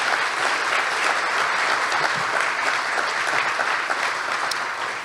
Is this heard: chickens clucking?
no